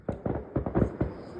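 Distant backyard fireworks pop in a quick irregular series of six or seven muffled bursts, fairly faint and loose in rhythm.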